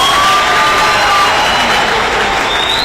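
A large crowd at South Africa's 30th Freedom Day commemoration applauds and cheers loudly and continuously, with scattered shouts rising above the sustained clapping.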